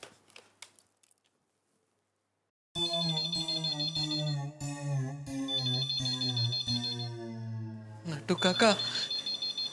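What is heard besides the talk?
intercom ringing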